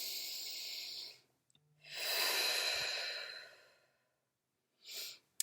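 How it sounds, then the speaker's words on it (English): A slow, deep breath drawn in and released, a long airy inhale then a sighing exhale, close and quiet, followed by a brief second breath. "So take a deep breath."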